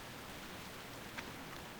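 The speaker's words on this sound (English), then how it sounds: "I can't hear the rain anymore. Now I can." Rain in World of Warcraft: faint, steady hiss of rainfall with soft pattering and no clear other sounds.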